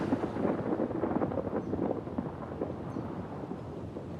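An approaching storm in an outdoor setting, with wind roaring and buffeting steadily and a low broadband rumble of distant thunder. The noise stays dense and fairly loud throughout and eases off slightly toward the end, with no voices present.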